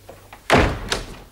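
A door is shut with a single solid thunk in an indoor setting, a loud close hit followed by a brief rattle and a second softer knock as it settles.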